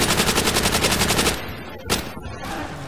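Sustained burst of rapid automatic machine gun fire in a zombies shooter game, loud and rhythmic for over a second, then a single sharp shot and a quieter tail.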